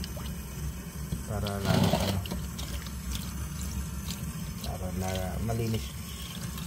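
Freshly picked mulberries being rinsed under running water, a steady splashing flow close by with a person talking over it.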